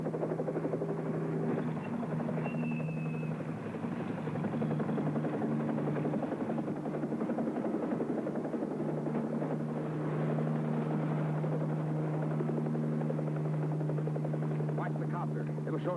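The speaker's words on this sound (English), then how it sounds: "Watch the copter. It'll show us the way." A helicopter drones steadily overhead throughout, its low rotor hum continuous and fairly loud, with faint voices underneath at times.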